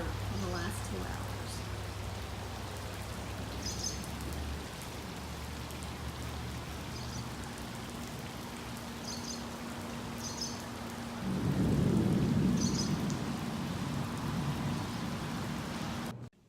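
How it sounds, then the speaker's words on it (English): Steady rain falls through a thunderstorm as a continuous hiss. A low rumble of thunder swells midway. Faint scattered higher sounds sit over it, with no speech. "This is like the third storm to come in today"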